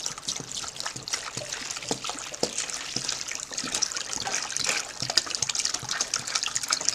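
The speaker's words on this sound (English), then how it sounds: "So let me go ahead and pour some water in here" Water poured from a gallon jug into a container for cleaning mason bee cocoons trickles and splashes steadily and nearby for the whole stretch, with no talking over it.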